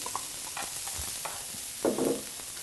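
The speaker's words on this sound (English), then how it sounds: "First, we start with sauteing all our ingredients with a little bit of oil in our hot pan." Carrots, diced onion and celery sauté in a little oil in a hot pan for bread stuffing, a soft, low sizzle with occasional light utensil taps and a brief louder stirring scrape near the end.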